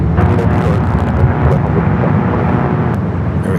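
Airliner rotating early off runway 24 left at Los Angeles International, a steady loud broadband jet engine roar held close and constant throughout, with no voices over it.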